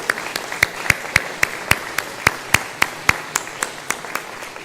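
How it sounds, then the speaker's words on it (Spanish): Sparse clapping after the mothers' presentation at a Sunday church service, a steady rhythm of single sharp claps, roughly three per second, from one or a few people, with a faint background murmur. "Por favor, un aplauso"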